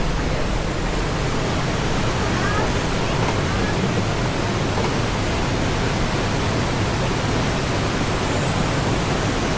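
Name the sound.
waterfall in Vietnam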